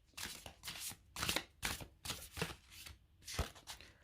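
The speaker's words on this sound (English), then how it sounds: "so let's see how these cards shuffle, because they are a bit on the large side" A deck of large tarot cards is shuffled, giving repeated soft riffling bursts in an uneven rhythm, quiet and close with no talk.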